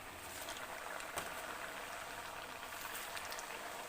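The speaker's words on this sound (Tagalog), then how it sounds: "I-deep fry ang donuts sa mainit na kawali na may 2 to 3 inches" Donuts deep fry in a pan of hot cooking oil two to three inches deep, a faint, even bubbling sizzle that continues steadily with occasional small pops.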